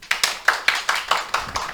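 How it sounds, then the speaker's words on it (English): A chemistry class claps for a student named Taylor: about eight sharp, evenly spaced hand claps in quick rhythm, close and clear, with no voices over them. "Everyone give Taylor a round of applause."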